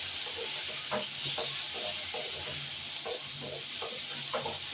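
Tilapia pieces and ridge gourd frying in hot oil for a spicy fish curry, a continuous close sizzle with hiss and soft repeated stirring scrapes, no voices.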